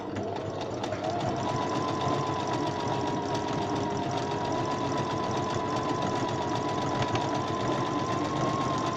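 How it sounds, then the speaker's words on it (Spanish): A Brother BM 3700 sewing machine running its cover stitch function, a continuous close buzzing hum with fast, even needle rattle that holds steady for several seconds at moderate loudness. "seleccionando la función tapa costura de esta máquina podemos hacer una costura bastante similar"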